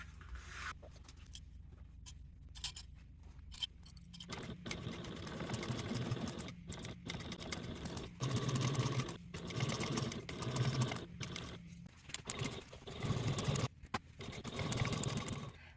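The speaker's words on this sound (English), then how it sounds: "you will fold the seams open and top stitch along both sides of the seams at a 1/8 seam allowance" Sewing machine running in bursts while top stitching along both sides of opened handbag seams at a 1/8 inch allowance, a steady mechanical whir starting and stopping several times at close range, with no talking.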